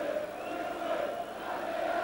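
A Leeds rugby league stadium crowd calls out in a sustained, distant roar of massed voices during a match against Hull, steady and moderately loud with no single voice standing out.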